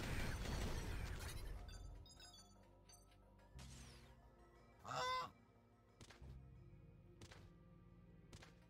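Honks from the flightless, power-armored goose of the game Mighty Goose ring out amid clattering game effects, a few short loud honks and squawks spaced between thuds and smashes.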